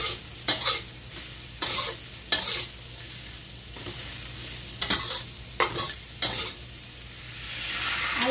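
Chicken seasoned with soy sauce, salt and flavor enhancer stir-fries in a pan for Taiwanese rice vermicelli: a steady close sizzle broken by repeated scraping bursts from stirring, with no voices.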